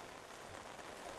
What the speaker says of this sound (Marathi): अरे पाऊस रे बाबा